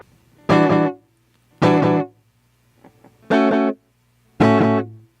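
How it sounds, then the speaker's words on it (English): Electric guitar run through a tape machine for a slapback echo, heard as four loud, distorted chord stabs with short gaps and a quieter pair of plucks between them, played alone. "it creates a slapback echo effect"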